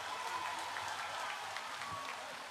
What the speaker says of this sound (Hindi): तालियां नहीं रोकनी चाहिए हमारे अतिथियों की स्वागत में